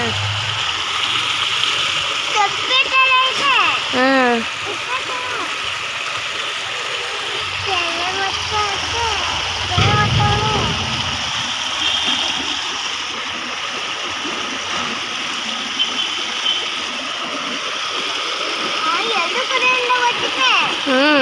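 Rushing, splashing water pours steadily and loudly, with voices talking and calling out over the gushing flow.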